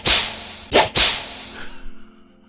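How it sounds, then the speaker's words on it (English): Soundboard whip crack effect: a sharp snap followed by two quick whooshing cracks close together, then a brief fading tail, loud and alone without any talk. "Oh yeah, the whip crack."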